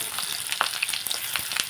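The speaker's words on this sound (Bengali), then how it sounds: "আমি একসঙ্গেই ভাজছি" Mixed vegetables, pointed gourd among them, frying together in a pan in a home kitchen, giving a steady, close sizzle with no voices.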